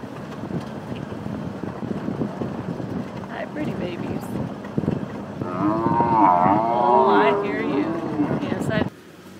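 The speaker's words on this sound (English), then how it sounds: "This may be our most legit cow jam ever." Cattle crowd a road in Brazil during a cow jam, with loud, drawn-out moos rising in the second half over wind noise and a steady vehicle rumble, and people talking nearby.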